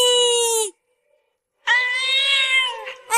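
A cat yowls twice, loud and close, with a long drawn-out meow, a second of silence, then a longer wavering cry.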